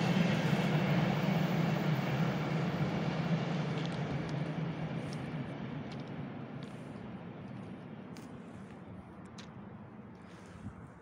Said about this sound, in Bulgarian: Това е последния влак от София за Бургас, който влиза в гара Бургас за тая вечер.